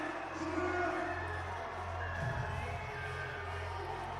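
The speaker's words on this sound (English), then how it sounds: "it is a very good crowd inside the Stab Velodrome" A crowd murmurs and cheers inside a velodrome during an indoor athletics meet, a broad, distant wash of voices with a brief swell of shouting in the middle.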